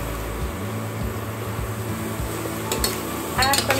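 A spatula scrapes and stirs cabbage egg fried rice with salt and pepper in a pan, in short repeated strokes over a low background hum, with soft clinks of metal near the end.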